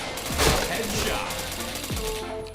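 Rapid bursts of video game gunfire crack and thud over a busy in-game background, loud and dense, with a few distinct shots standing out.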